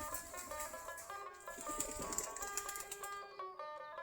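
Domestic Giribaz pigeons coo softly and repeatedly while feeding, several birds overlapping in a continuous, close, gentle burble with no voices.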